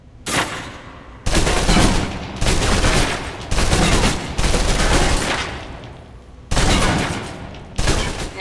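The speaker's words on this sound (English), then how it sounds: "Now, let's move on to the submachine gun. Now let's empty the clip." A submachine gun in the video game Alpha Protocol is emptied in several long, loud, sustained bursts of rapid automatic fire, each lasting about a second or more, separated by short pauses.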